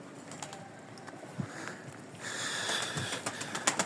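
Soft pigeon coos and rustling wing movement nearby, quiet and intermittent, with a gentle patter of evening rain in the background.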